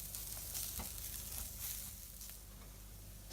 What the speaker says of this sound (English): My curry powder's been cooking out for a few minutes